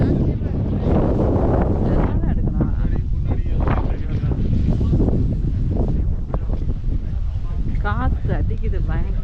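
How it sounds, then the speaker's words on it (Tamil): Strong wind buffets the microphone at the Tian Tan Buddha on Lantau Island, a loud continuous roaring rumble that gusts throughout, with someone talking underneath it. "காற்று அடிக்குது பயங்கரம்."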